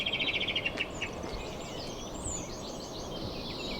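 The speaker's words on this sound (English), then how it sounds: "the birds singing" Birds sing outdoors along a countryside pilgrimage route in Spain, a quick bright trill up front followed by scattered chirps and calls over soft ambient background, no voices.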